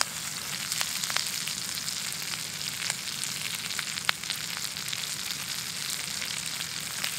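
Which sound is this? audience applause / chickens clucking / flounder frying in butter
flounder frying in butter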